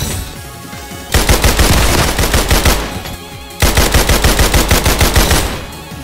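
Rapid automatic gunfire in the Roblox game Criminality, two loud sustained bursts of fast shots, each lasting over a second, close up with a brief pause between them.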